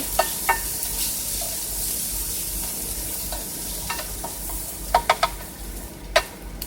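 Fresh eggs frying in a pan inside a truck cab, a steady crackling sizzle with scattered clicks and scrapes of a utensil, close and moderately loud with no voices.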